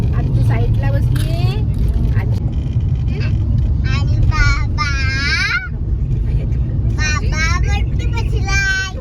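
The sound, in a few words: car being driven by dad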